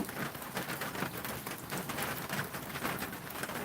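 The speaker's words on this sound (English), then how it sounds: "Yes, it is raining." Rain falling steadily in Cleveland, Ohio, a dense continuous hiss of drops with soft irregular pattering, moderately loud and alone.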